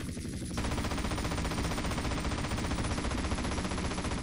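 Rapid gunfire and a blast in the game GTA San Andreas, a dense, continuous crackling roar that starts abruptly after a brief pause and stays loud throughout.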